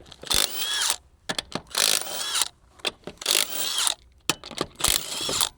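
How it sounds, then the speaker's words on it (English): An impact tool zips lug nuts off a wheel of a Polaris RZR PRO XP lifted on a manual jack, in several short, loud whirring bursts separated by brief silences. "With the vehicle in the air, we can pull the lugs."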